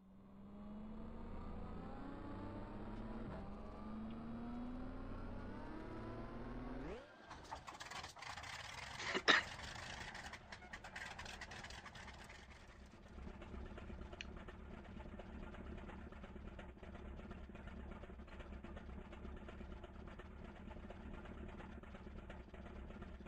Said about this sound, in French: Pour les Hampton, démarrage moteur.